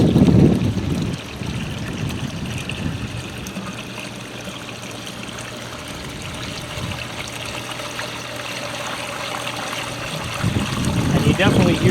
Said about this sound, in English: And now the water is going down with a vengeance.